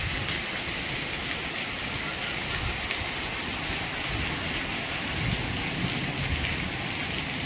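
Steady rain falls on open farmland with wind, a dense, even hiss that holds without a break from start to end, with no voices.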